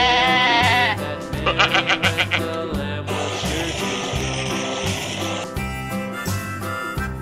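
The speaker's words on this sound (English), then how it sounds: "Goat." Repeated goat bleats, loud and close, come in short quavering bursts, one after another with brief pauses.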